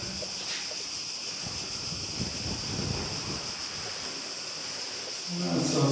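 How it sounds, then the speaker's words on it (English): Fresh wind blowing on Vis island, Croatia: a soft, steady outdoor rush of air that swells a little midway and rises again at the end, with no voices. "Nice fresh wind."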